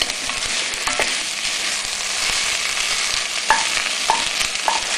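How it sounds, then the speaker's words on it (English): Chopped red pepper and fresh tomatoes sizzle in a pan with salt for chilli con carne while a utensil stirs, a steady loud fry with a few sharp scrapes and knocks against the pan. "I'm just going to put a little bit of salt and give that all a stir around."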